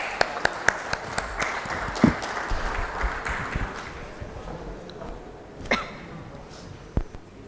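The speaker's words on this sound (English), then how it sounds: "Let's give them once again a huge round of applause" An audience at an annual markets outlook conference applauds its panelists and moderator, clapping that starts out scattered and distinct, then thins and fades over several seconds, leaving only a few last claps.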